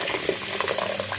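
Boiling water poured over soba noodles, a steady close splashing and gurgling stream that runs the whole short moment with no voices.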